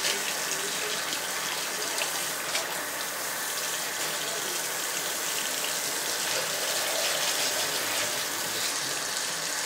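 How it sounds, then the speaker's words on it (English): A tap runs steadily in a sink while a mannequin head is rinsed, a constant loud rushing stream throughout with no talk. "always when you're washing your mannequin head, try to have the water flowing down"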